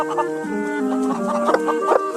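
A Japanese Silkie bantam hen clucks and murmurs in a steady run of soft, throaty notes, close by, with no other sounds.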